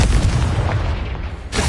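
A Confringo fire spell exploding in Hogwarts Legacy, one dense, loud, close blast with heavy low rumble that swells and lingers for over a second before a second burst begins.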